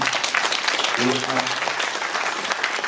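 A ceremony audience gives loud, continuous applause for the bishop, a dense crowd of clapping hands that holds steady, with a brief voice rising through it near the middle.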